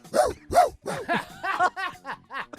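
A man imitates a dog with his voice, a run of about eight short, loud bow-wow barks in quick succession close up, with no other talk.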